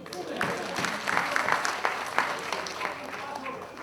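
Audience applause at a gathering, a steady wash of clapping with brief crests, mixed with some background voices.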